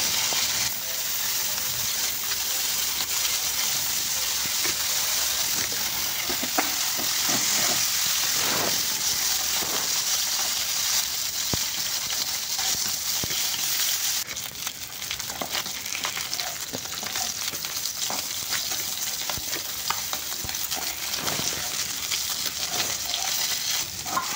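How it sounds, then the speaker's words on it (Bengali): Continuous crackling sizzle of khoira fish frying in hot oil in a wok, a bright hiss that keeps going with small pops and shifts. "কড়াইয়ে তেল দিয়ে দিলাম, তেলটা গরম হলে মাছগুলো ভেজে নেব"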